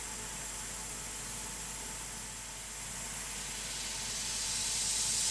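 An airbrush with a 3mm needle sprays colour onto a turned wooden bowl, giving a steady faint hiss that swells slightly toward the end.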